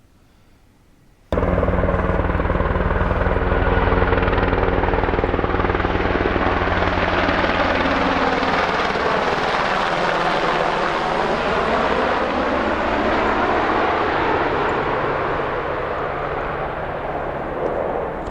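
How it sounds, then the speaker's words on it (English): Loud military helicopter rotor thudding suddenly begins after a quiet moment, flying low and close overhead, its pitch shifting as it passes and slowly fades. "that's where these helicopters are coming from"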